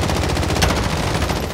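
Rapid automatic gunfire rattles continuously at a car in Call of Duty Warzone, dense and loud with no pause across the short burst.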